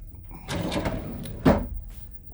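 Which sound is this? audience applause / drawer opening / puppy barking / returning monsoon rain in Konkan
drawer opening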